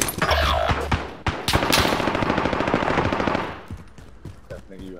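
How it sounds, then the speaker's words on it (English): Rapid automatic gunfire in a shooter video game rattles in loud, dense bursts with a few sharp single shots, close and dominant before tailing off, with a voice briefly heard among the shots. "I shot you two times with this and I killed the last guy"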